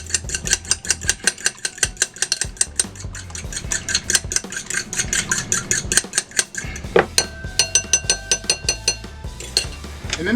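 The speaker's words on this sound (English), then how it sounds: "Take the 1 egg, break it into a bowl. We're just going to mix this up real good." One egg is whisked in a bowl for shrimp batter: rapid, regular clinking strokes of utensil against bowl, close and fairly loud, with a short pause midway before the beating resumes faster.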